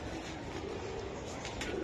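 Giribaz pigeons coo faintly on a winter morning, their low murmuring calls half-buried in steady background noise.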